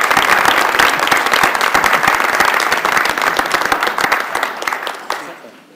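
Applause from the audience at a university system board of regents meeting, a loud, dense clatter of many hands that gradually thins and fades out over the last second.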